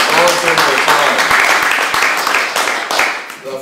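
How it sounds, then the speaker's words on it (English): An audience at a Wagner Society panel discussion on the Ring Cycle gives a round of applause, steady clapping that fills the room and tapers toward the end, with a voice speaking over the start. "let's give them a round of applause"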